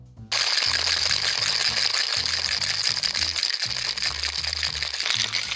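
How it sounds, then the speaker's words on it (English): Ice rattles hard inside a metal mixing tin as a cocktail is shaken, a loud, fast, steady clatter starting abruptly after a brief quiet moment and continuing without pause. "Now it's time to add some ice and shake the cocktail."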